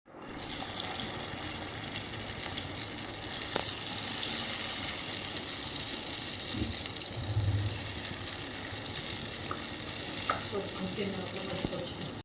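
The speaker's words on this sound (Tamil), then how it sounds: "இதை அப்படியே போட்டு போட்டு கொஞ்சம் கொஞ்சமாக பொறிச்சிக்கலாம்" Bitter gourd pieces coated in rice flour frying in hot oil, giving a dense, steady, loud sizzle that continues throughout with occasional small pops and stirring clicks.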